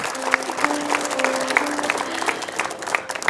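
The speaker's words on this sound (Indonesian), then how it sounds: "Boleh kasih aplaus?" Audience applause for two guests on a talk-show stage, a steady wash of clapping filling the whole stretch at moderate loudness with a faint voice underneath.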